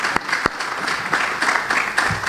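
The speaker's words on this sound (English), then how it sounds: "That's worth applauding." A church congregation applauding, a brief burst of steady, moderately loud clapping from a full room, heard alone.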